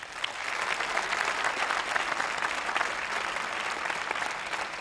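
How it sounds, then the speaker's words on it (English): A crowd applauds continuously for about five seconds: dense, steady clapping from a large audience with no voices over it. "Please give yourselves a huge round of applause."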